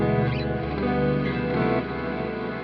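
Electric guitar played through an EarthQuaker Devices Afterneath reverb pedal on a clean setting, producing a dense, continuous wash of shimmering ringing notes with a steady level and a slight dip near the end, with no voices.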